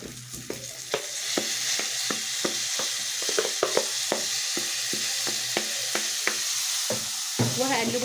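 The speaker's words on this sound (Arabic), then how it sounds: "هبدأ انزل بالرز" Rice tipped into frying vermicelli and stirred, giving a steady oily sizzle with rhythmic scraping strokes of a spoon against the pan, close and fairly loud, with no speech.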